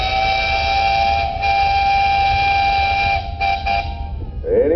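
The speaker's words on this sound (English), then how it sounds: "Harold, you got a whistle?" A steam engine whistle at a steam threshers' parade blows loud and close in one long sustained multi-chamber chord, briefly stuttering near the end before cutting off.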